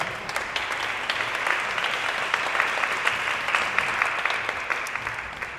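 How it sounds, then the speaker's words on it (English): An audience at an arts young professionals summit applauds in a steady, even round of clapping, with individual sharp claps standing out in the continuous patter. "All right, round of applause."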